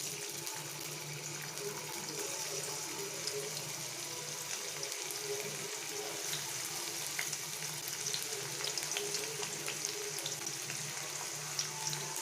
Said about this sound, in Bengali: এখন আমি দিয়ে দেবো কড়াতে একটু তেল। এবারে দেব আদা কুচি।